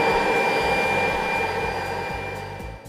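A compact carpet cleaner runs steadily at close range, its vacuum motor whining alongside a low rumbling brush that pulses in a slow rhythm as the machine is pushed and pulled across carpet, with no talking.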